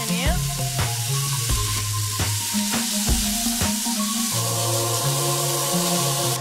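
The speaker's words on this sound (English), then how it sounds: "I go ahead and add in the large diced onion. Toss them together and let the process continue." Diced onion frying in sausage grease gives a loud, steady sizzle, broken by sharp scraping knocks as the pieces are stirred, with a tonal hum running underneath.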